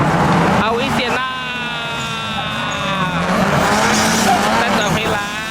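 A Nissan SilEighty drift car skids around a car park, tires squealing in loud, sustained wails with engine roar, while someone talks over it.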